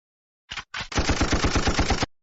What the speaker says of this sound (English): I could not even hear my gunshots.